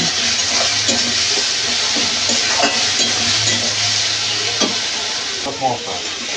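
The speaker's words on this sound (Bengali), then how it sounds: "আদা বাটা দিয়ে আমি ভালো করে কষিয়ে নেব।" Tomatoes fry with ginger paste in a pan, stirred steadily: a constant close sizzle and hiss with repeated scraping strokes of a spoon throughout, no voices.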